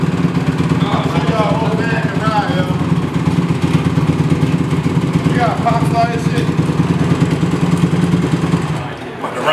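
A dirt bike engine idles and burbles steadily nearby, with people talking over it throughout and the motor easing off at the very end.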